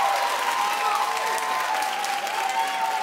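A talk-show studio audience gives sustained, loud clapping, a dense steady wash of applause with crowd voices and cheering underneath, continuous for the whole stretch.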